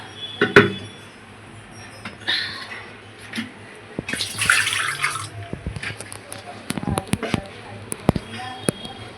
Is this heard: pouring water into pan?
yes